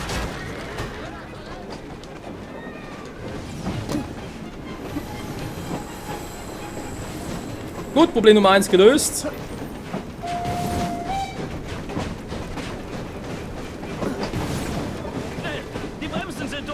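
A burning train rolls in Assassin's Creed Syndicate, rumbling steadily with clattering wheels and a loud rough burst midway, moderately loud under a man's speech.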